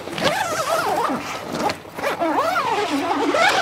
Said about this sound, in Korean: 아까 입구 쪽에 지퍼 닿는 모습 한번 보여드릴게요.